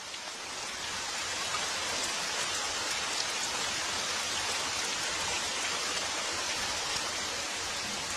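Steady, even rainfall hisses continuously, a dense wash of drops on surfaces that fades in at the start and then holds at a constant moderate level with no voices.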